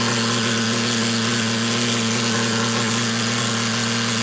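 A nitro-powered Slash RC truck engine idles steadily on a workbench, a close, continuous buzzing drone with a constant pitch and no talking over it.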